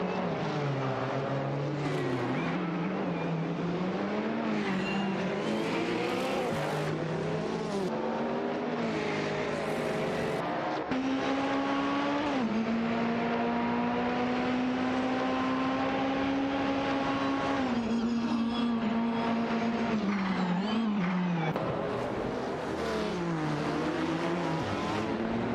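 Race cars roar continuously in an AI-driven racing video game, with engine pitch rising and falling through gear shifts as the cars hold a loud, steady whine throughout.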